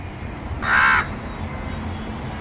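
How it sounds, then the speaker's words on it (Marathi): A crow perched at a kitchen window gives a single loud, harsh caw over a quiet background hum. "किचनच्या विंडोमध्ये हा कावळा येऊन बसलेला आहे आणि नुसता कावकाव करीत आहे."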